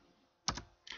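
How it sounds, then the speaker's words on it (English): Two short bursts of typing on a computer keyboard, quick close clicks separated by a pause in a quiet room. "I'm just going to type in winset"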